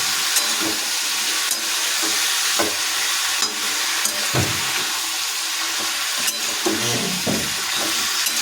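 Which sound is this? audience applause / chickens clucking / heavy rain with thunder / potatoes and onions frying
potatoes and onions frying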